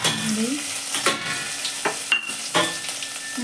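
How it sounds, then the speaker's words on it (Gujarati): Cumin seeds, asafoetida and a spice paste dropped into hot oil, crackling and sizzling close up while a spoon scrapes the pan in several sharp strokes, with faint background clatter and no speech. "તો જીરું નાખી દઈએ, થોડુંક હિંગ નાખી દઈએ અને હવે આ પેસ્ટ નાખી દઈએ"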